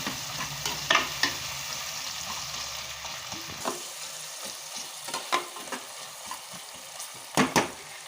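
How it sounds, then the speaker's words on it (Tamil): Four large onions sautéing in a pot for prawn biryani, a steady close sizzle with scattered scraping stirs and clinks of a spoon against the pot, no voices. "நல்லா ஆனியன் வதங்கணும்."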